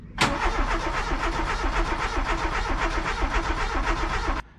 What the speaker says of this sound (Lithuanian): Laimiai automobilis užsiveda po šitų darbų.